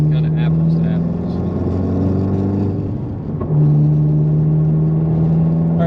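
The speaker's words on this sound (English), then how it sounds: "We're going to do some runs in Jake's car now. Sound runs." A car fitted with a Baun Performance exhaust accelerates: a steady, loud droning exhaust note holds, dips briefly around the middle as if shifting, then resumes strongly, heard from inside the car.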